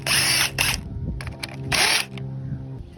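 A power tool, a drill or impact driver, takes out the manifold bolts on a lawnmower in a short burst: two loud whirring spins with ratchety clicks between, close by.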